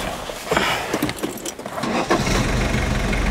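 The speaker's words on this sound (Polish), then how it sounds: "zobaczmy, jak odpala Audi diesel, które ma ponad 300 tysięcy przebiegu" Keys jangle before a 34-year-old Audi 80 B3 1.6 diesel with over 300,000 km cranks briefly and fires, settling into a loud, steady diesel idle close by.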